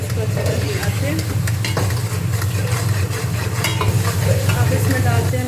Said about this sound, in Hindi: अब हम इसको अच्छी तरह मिलाते हैं।